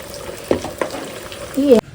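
Chicken pickle frying in hot oil in a pan, a soft steady sizzle with a few sharp stirring clicks and a brief louder scrape near the end before it cuts off.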